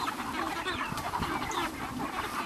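Chickens clucking as they are shooed from a backyard broiler coop, a busy overlapping chorus of close clucks and squawks with a few sharper calls, no voices.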